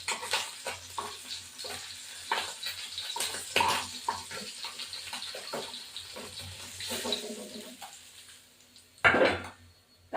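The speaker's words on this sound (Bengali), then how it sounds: "ট্যাংরা মাছ ভীষণ ফোটে।" Tengra fish frying in hot oil in a pan, giving a steady crackling sizzle with scattered pops and spatters throughout and a sharp louder burst near the end, heard close with no talking.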